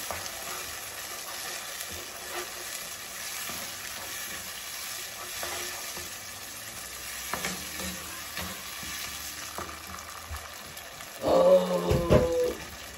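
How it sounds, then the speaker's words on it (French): A tomato frying in a pan gives a steady, soft sizzle that runs throughout, with a few faint scraping stirs as it is turned. A sharper, louder clatter comes near the end. "Notre tomate frite. Et puis je le tourne."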